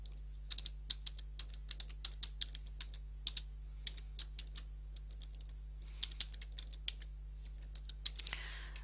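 Rapid keystrokes on a computer keyboard as an email address is entered, a steady run of light, close clicks with short pauses, heard alone in a quiet room.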